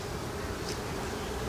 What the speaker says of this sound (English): It's covered in bees